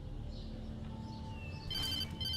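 A telephone rings in the video game Alan Wake, a faint electronic trill breaking in near the end over a low background hum.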